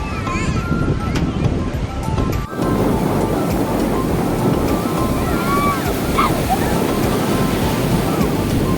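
Sea waves roll in at crowded Puri beach, a loud, continuous wash of surf buffeted by wind noise, with a brief dip before the roar resumes and indistinct crowd voices mixed underneath.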